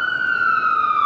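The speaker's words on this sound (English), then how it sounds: "this is New York, so you're bound to hear sirens" A police siren on a New York City street: a steady, loud wailing tone holding its pitch for about a second, with no speech.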